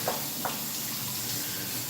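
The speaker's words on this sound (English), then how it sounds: "So now I'm rinsing the noodles off with hot water." Hot tap water running over noodles being rinsed in a kitchen sink, a steady close splashing hiss with a couple of brief sharper splashes near the start, no talk.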